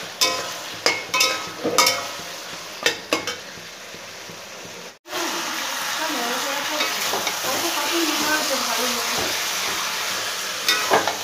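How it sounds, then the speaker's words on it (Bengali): Onions frying in a home kitchen pan: a steady, dense sizzle fills the second half after a few sharp stirring clatters and a brief pause, close and fairly loud. "পেঁয়াজ ভাজা বসিয়ে দিয়েছি"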